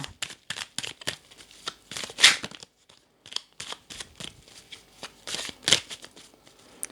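Tarot cards being cut and handled, a series of quick, close papery riffles and slaps in irregular bursts with short pauses between them.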